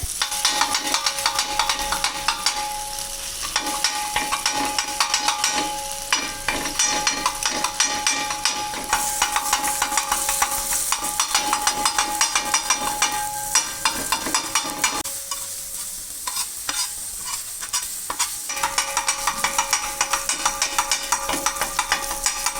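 Onion and tomato frying in a pan on a tawa, with steady crackling sizzle and frequent scraping and stirring of a spatula against the metal, close and continuous with no talk.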